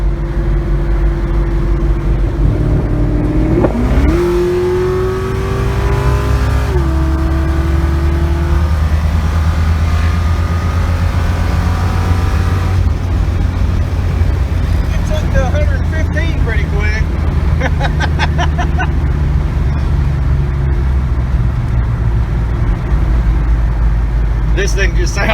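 LS-swapped Chevrolet Nova on a test drive, its V8 droning steadily up close with a strong low rumble and rising, shifting engine tones, while people talk over it throughout.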